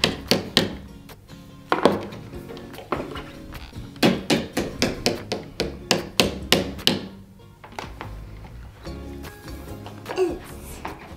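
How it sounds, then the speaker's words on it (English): Repeated sharp banging of a small toy hammer, irregular strikes close by, some in quick bursts and others spaced apart, with brief pauses. "And this is a hammer. And I'll show you, I can just do this."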